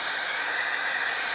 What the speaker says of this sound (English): This hairdryer is a turbo mode